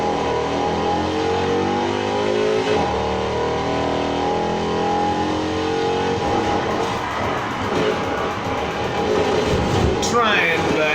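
A 2017 Infiniti Q60 S races in Need for Speed Heat, its engine droning steadily with shifting pitch and revs climbing near the end, loud and continuous under game effects.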